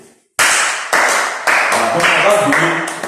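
A burst of applause starts abruptly after a brief silence, loud and sustained, with some voices and tonal sounds mixed in.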